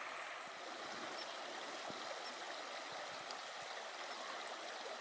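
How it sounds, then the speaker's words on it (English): A river flows steadily on an autumn morning beside a railway line, a continuous soft rushing of moving water that stays even and moderately faint throughout with no voices. "the sound of the river moving"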